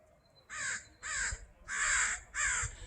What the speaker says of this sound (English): the birds have a lot to say today